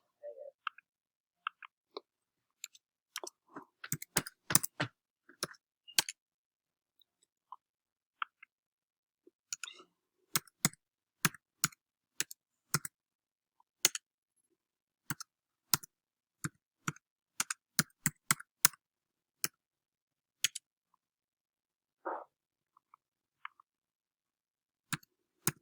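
Keystrokes on a computer keyboard entered into a spreadsheet, sounding as isolated crisp clicks and short irregular bursts in quiet surroundings, with a brief faint voice partway through.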